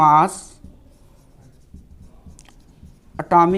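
Chalk or marker scratching across a classroom board as a chemistry teacher writes the atomic mass of hydrogen, a soft irregular scraping heard between bursts of his speech at the start and end.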